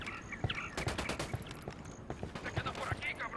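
Scattered gunfire from a Ghost Recon Wildlands firefight: repeated sharp shots spaced through the moment, mixed with background battle noise and faint voices.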